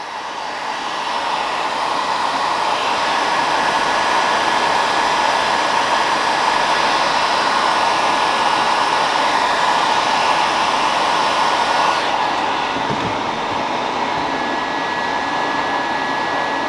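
A heat gun blowing hot air at a plastic car bumper, a loud continuous whooshing drone held steady throughout, no talking.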